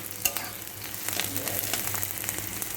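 Onion and garlic fry in a pan, a close crackling sizzle broken by sharp spatula scrapes and clicks as they are stirred, ending abruptly.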